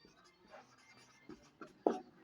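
Writing on a board during a physics lesson: a few short, dry scratching strokes, soft and close, separated by brief pauses, with one louder stroke near the end.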